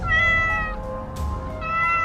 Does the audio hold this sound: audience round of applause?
no